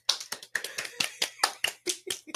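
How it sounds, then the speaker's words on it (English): A run of about ten sharp hand claps in an uneven rhythm, close and fairly loud, each a crisp broadband smack with quick decay and no talking between them. "Hey, hand claps."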